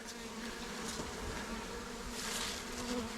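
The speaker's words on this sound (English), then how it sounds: "See, here's a bunch of bees." Dense, steady buzzing of a close honeybee swarm, a continuous droning hum with no voices.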